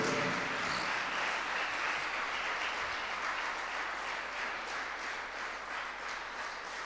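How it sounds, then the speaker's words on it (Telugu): Applause from a church congregation at a Sunday worship service, a broad steady wash of many hands clapping at moderate volume for several seconds. "చప్పట్లు కొట్టి ప్రభువును స్తుతించండి"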